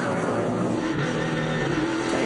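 NASCAR Nationwide Series race cars roar around the Montreal track in a continuous, dense engine drone with a loud, steady wash of motor noise and no distinct pass-by peaks.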